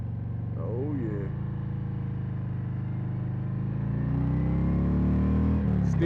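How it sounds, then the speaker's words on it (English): A three-wheeled trike engine rumbles steadily through a Shark Road exhaust while cruising on a sunny morning, a low continuous drone that swells slightly toward the end, with someone talking over it. "Still got the Shark Road exhaust, as you can see. It's still purring."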